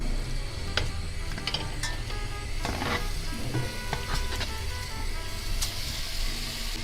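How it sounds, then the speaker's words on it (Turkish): Chicken gizzards sizzle softly in a hot pot, with scattered clinks and scraping stirs over a low background rumble. "Şimdi bunu tencereye alıp pişirmeye başlayacağız."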